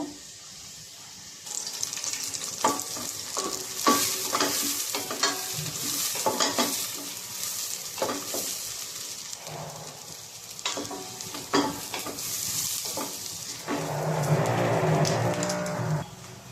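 Onion, garlic and bay leaf frying in foamy mustard oil with stirring scrapes, a steady sizzle swelling louder near the end as the pan heats; no voices.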